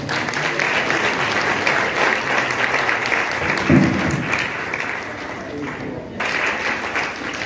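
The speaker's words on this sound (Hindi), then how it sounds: "प्रभु यीशु मसीह की जोरदार ताली बजा" A church congregation at a Punjabi worship service claps hard and steadily for several seconds, a dense wash of hands with crowd noise and a voice speaking over it, briefly dipping near the end.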